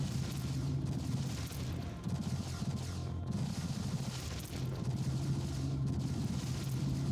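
Battle between ships in the Distant Worlds 2 space strategy game brings a continuous low rumble of explosions and booming weapon fire, moderately faint, rising and falling in repeated waves with no speech.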